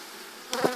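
A bee swarm being hived into a log hive gives a brief, faint buzzing that rises near the end over a quiet, steady background, with no voices present.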